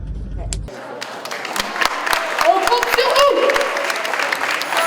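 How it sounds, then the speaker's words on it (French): Audience applause for presenters at a year-end event builds from scattered claps into steady clapping, with a few sharp close claps and some voices under it. "Et on applaudit aussi nos présentateurs"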